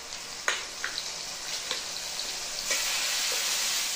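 Masala spice paste hitting a hot pan, bursting into a loud, close sizzle with a few sharp spits and stirring clatters, then settling into a steady hiss.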